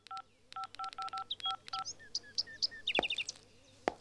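Telephone dialing tones in a domestic drama scene: a quick string of keypad beeps followed by higher chirping tones, with soft clicks near the end over a quiet room background.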